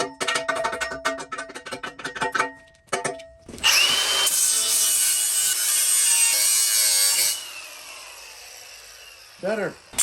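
A power tool grinds the cut end of steel channel, starting with a burst of choppy, rattling passes and then settling into a long, loud, steady grind before it winds down.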